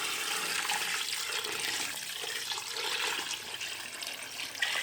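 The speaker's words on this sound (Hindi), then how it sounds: "अब इसके अंदर हम डालेंगे पानी।" Water pours steadily into a pressure cooker holding browned beef for nihari, a continuous close splashing gush with no talk.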